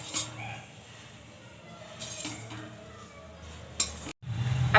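Roasted desiccated coconut is scooped from a wok onto a plate while making sooji mawa gujiya, with faint scraping and stirring, a few light metallic clinks and a louder clatter near the end.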